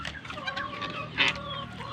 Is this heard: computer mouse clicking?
no